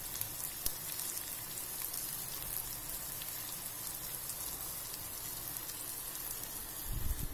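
Onion petals frying in hot oil give a steady, close crackling sizzle with scattered pops, continuous and fairly quiet, with a brief low thump near the end.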